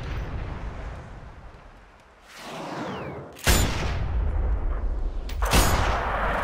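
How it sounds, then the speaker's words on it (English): Mortar fire in Sniper Ghost Warrior 2, with two loud booming blasts a couple of seconds apart over a constant roar of battle noise and rumble. "We're gonna be pinned till we can stop that mortar fire."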